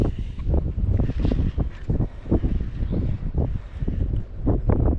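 Steady wind buffets a lake during fall bass fishing from a boat, a continuous rough rumble with gusty swells rising and falling throughout, with no voices.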